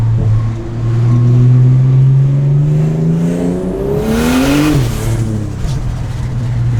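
A 400 hp Barra-engined car fitted with a short-ratio limited-slip differential accelerates hard nearby, its loud engine note rising steadily in pitch before dropping sharply as the revs fall, then settling at a lower drone.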